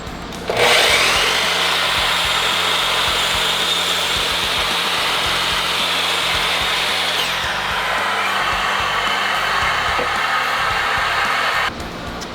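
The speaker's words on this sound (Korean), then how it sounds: "요거는 이제 보통 이제 나무를 자를 때 쓰는 이제 톱인데 흔히 이제 각도 절단기라고 합니다" A miter saw cuts wooden legs for a two-person table, giving one loud, sustained whining buzz up close for about eleven seconds before the blade spins down.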